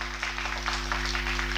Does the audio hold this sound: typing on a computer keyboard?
no